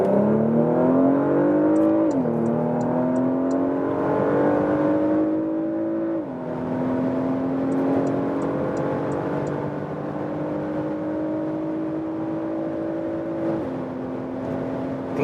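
A 2022 Porsche Macan S with a 2.9-liter V6 accelerates hard from low speed on a German motorway, its steady engine drone climbing in pitch through three gear changes, loud and continuous inside the cabin.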